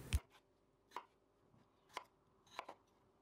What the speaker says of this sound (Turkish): Soğanları da ortadan ikiye keserek